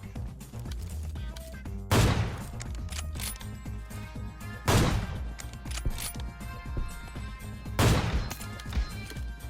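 Gunfire in the mobile game PUBG Mobile, three heavy shot bursts spaced a few seconds apart over a constant bed of game sound, moderately quiet overall.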